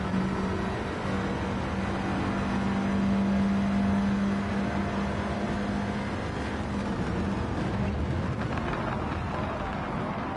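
Race car engines in Gran Turismo 7 roar loudly and steadily, with a dense, continuous drone from several cars running close together and a sustained tonal whine partway through.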